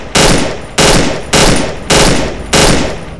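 Automatic gunfire in the horror game Cry of Fear as the last magazine is emptied: five loud, close bursts of rapid shots in a steady rhythm, with short gaps between them and no talking.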